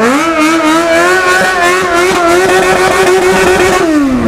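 Yamaha XJ6 motorcycle ridden on a city street at night, the engine loud and close, revving hard with rising and falling pitch and a brief drop at the end.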